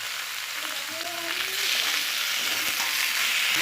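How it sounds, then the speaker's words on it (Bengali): Flat beans fry in a pan with a steady, close sizzle that grows slightly louder partway through, with faint stirring noises and no speech. "এই যাতে এরকমভাবে একটু একটু ভাজা ভাজাও হবে শিমটা"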